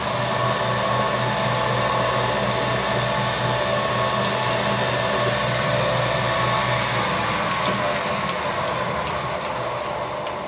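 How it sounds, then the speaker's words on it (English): A centre drill boring a hole into the end of a metal part on a machine, giving a steady continuous whir and grinding hum throughout, close and fairly loud, with no talk. "There's a hole to drill in the end just for an arc clip to go through."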